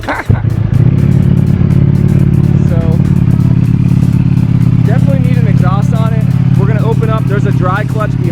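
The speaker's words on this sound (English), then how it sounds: "Let's give you guys a start up of this bad boy. Let you hear the exhaust." A Ducati Panigale V4 SP with its stock exhaust fires up and settles into a loud, deep, rumbling idle close by, while voices and barking dogs are heard over the engine.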